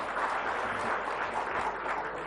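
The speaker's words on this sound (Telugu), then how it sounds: "Come on give a big claps to Revanth Reddy." An audience applauds for Revanth Reddy at a speech event. The crowd's clapping is a steady, dense patter that sounds somewhat distant and fairly soft, with no voices over it.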